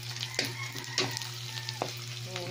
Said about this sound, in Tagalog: Pritong dali-dali na isda.